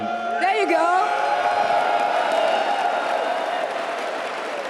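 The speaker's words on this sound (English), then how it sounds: "They're only here for you and cheer for you." An esports arena crowd at the EMEA Masters grand final cheers and applauds, a dense sustained roar with a few whoops and shouts rising near the start, then settling into steady crowd noise.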